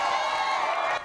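Crowd at a small-town wrestling match in a community hall cheering and shouting in a steady, bright roar that drops off sharply near the end.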